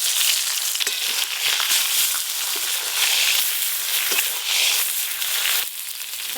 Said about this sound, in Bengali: ওই একই তেলে মাছ রান্নার জন্য বেগুনগুলো ভেজে নেব।